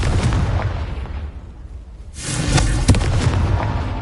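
A Confringo blast from Hogwarts Legacy booms after a brief lull, a heavy low burst followed by crackling debris and rumbling that stays loud to the end.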